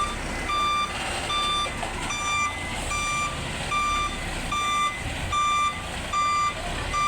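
A heavy Sunmade delivery truck backs up with its reversing alarm beeping steadily about twice a second, loud and clear over rumbling engine noise and outdoor ambience, with no talking.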